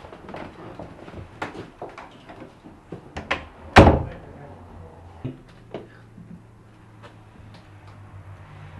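A house door is handled close by: scattered knocks and clicks, one sharp loud thud like a door shutting, then softer latch taps and a low hum.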